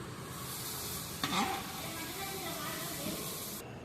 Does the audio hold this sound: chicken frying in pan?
yes